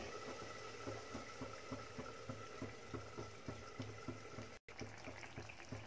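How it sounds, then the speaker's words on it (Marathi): Gravy for white onion bharit bubbles steadily in a pot over a medium flame, a dense continuous boil with a rhythmic pulse and one brief dropout near the end. "तर इथे उकळी आलेली आहे"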